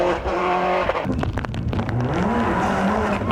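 A World Rally car at the Circuit of Kerry 2004 rally pulls away from the starting ramp on a wet stage, its engine revving hard and rising in pitch through the gears, loud and close, with tire noise on the wet surface.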